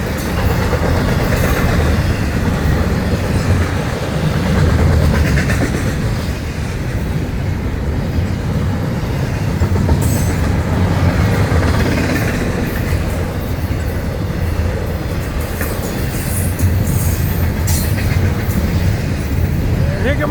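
An FEC freight train rolls past with trailers, a loud close rumble of wheels and cars with rhythmic clacking and occasional squeal, sustained throughout.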